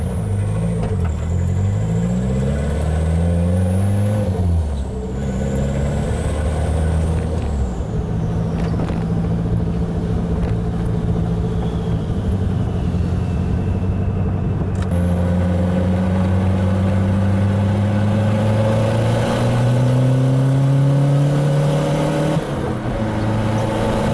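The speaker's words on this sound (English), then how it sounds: "I'm hearing a definite strong rattle starting to come from my transmission" A car with a GA16DET engine drives with a transmission rattle; the close, continuous engine drone rises and falls in pitch as it revs through the gears.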